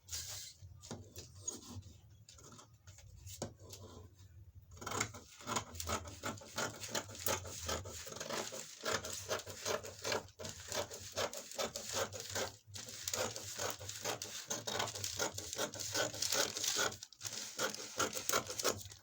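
Scissors cutting corset gown fabric, a long run of steady, close snipping and rustling cloth, fairly quiet, with brief pauses between cuts and no talking.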